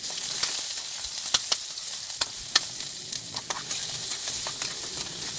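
Onion sautéing in a pan for chicken kaldereta, a steady bright sizzle and hiss with occasional sharp ticks from stirring, close and continuous with no talking.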